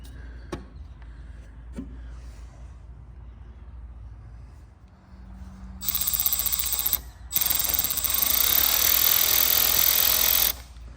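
A ratchet tightens the base plate bolts on a Briggs and Stratton carburetor, giving two long bursts of rapid clicking after a few light taps and handling noises, close and loud, with no voices.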